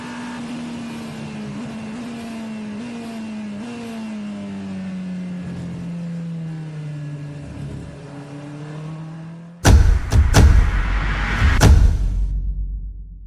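Cockpit view of a Pipo 3.5-litre twin-turbo V8 hypercar engine at Le Mans, a steady loud drone sliding gradually lower in pitch, then a sharp burst of harsh, loud revving with rapid blips near the end.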